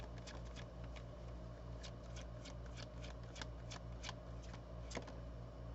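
A deck of tarot cards is riffled and shuffled by hand during a reading, with a rapid run of crisp flicking snaps that continues steadily over a faint low hum. The sound is close but quiet.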